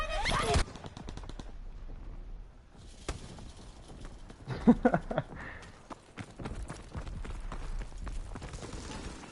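In Call of Duty WWII, the PPSH submachine gun fires in rapid rattling bursts, punctuated by scattered gameplay gunfire and noise at a moderate level, with no talk over it.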